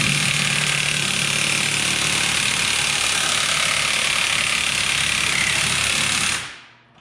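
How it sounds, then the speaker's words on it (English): An impact gun driving a plug saw machine as it cuts into a pipe, giving a loud, steady, close mechanical grinding whir that runs unbroken for several seconds before quickly winding down. "put the tool impact gun into the plug machine, and you're going to hold down the trigger going clockwise for about 10 seconds"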